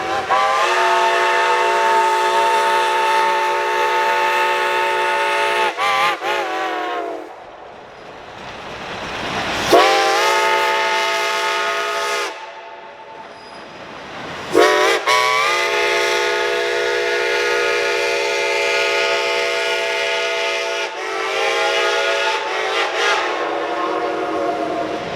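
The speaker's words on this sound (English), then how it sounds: "Shay number 11 eases the Bald Knob Run, the last train of the day, down the steep mountain grade." Shay number 11, a geared steam locomotive, works down a steep Appalachian mountain grade with a passenger excursion train, sounding several long, loud, chime-like steam whistle blasts separated by short pauses over a low rumble of the train.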